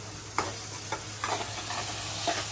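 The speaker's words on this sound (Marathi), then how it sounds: "त्याच्या आधी मी कोळंबी फ्राय करते जरा, मग मसाला घालते" Prawns frying in hot oil, a soft continuous sizzle broken by a few scraping stirs of a spatula in the pan.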